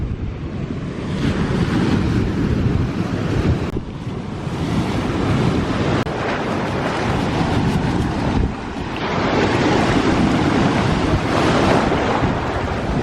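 Ocean surf rolls and crashes onto a sandy, shell-strewn beach while shark-tooth hunting, a continuous loud roar with wind buffeting the microphone and swelling waves rising every few seconds.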